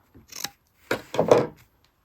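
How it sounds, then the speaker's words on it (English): Scissors cut across fabric binding on a sewn table runner, making a short crisp snip and then a longer double cutting rasp, close and distinct with no talk over it. "get my scissors, and just snip across here like this."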